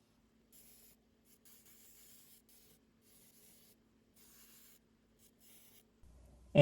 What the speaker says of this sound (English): And now the fun process of hand sanding.